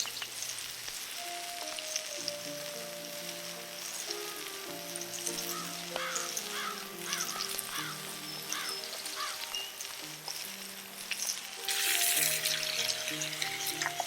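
Vegetables for a steak stew cook in a cast iron pot with a soft, steady sizzle, joined by scattered chirping tones.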